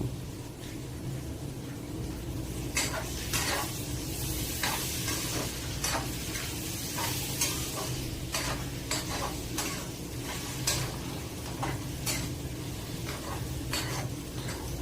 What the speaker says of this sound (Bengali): টমেটো এবং কাঁচামরিচ দিয়ে এখন ভালো করে আমি মিক্স করে নিব